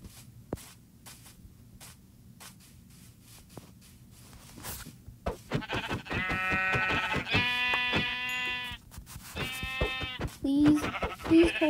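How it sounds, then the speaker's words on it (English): Minecraft sheep give a run of repeated, nasal, buzzy bleats close up in the game, following a stretch of scattered clicks and steps. "we gotta go kill some more sheep"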